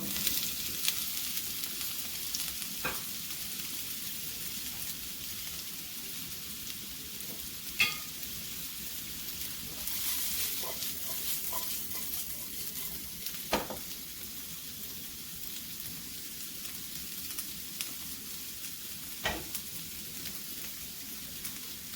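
Mustard seeds and potato pieces sizzle in hot frying oil for spiced masala potatoes, a steady soft crackling hiss broken by scattered spitting pops and occasional stirring clatter, with no one speaking.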